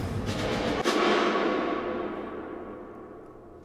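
A Bricasti hardware reverb unit on a cathedral setting rings out as a long, dense tail after a burst of sound, decaying smoothly and slowly with the high end fading first, with no talking.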